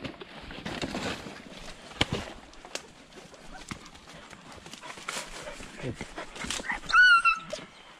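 Hunting dogs on an agouti hunt in the bush at Catshill, Trinidad and Tobago, give scattered close yelps and whimpers amid rustling and movement, with a brief bird call near the end.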